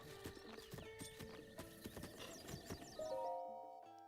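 Horse hooves clip-clop in a steady rhythm with a whinny in Zelda: Breath of the Wild, game music layered over the footsteps before a rising tone near the end.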